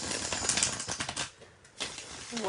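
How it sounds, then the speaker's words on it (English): Tarot cards being shuffled in quick, dense riffling bursts, loud at first, dipping briefly, then picking up again, with no talking. "That was a beautiful shuffle."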